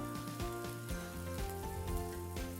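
Peppercorns drop into oil sizzling with garlic, setting off a steady close hiss and frying crackle, with a faint background musical hum underneath.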